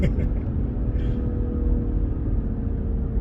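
A 2021 BMW 530e plug-in hybrid sedan pulling hard at full throttle, its steady low engine rumble filling the cabin for a few seconds without a break.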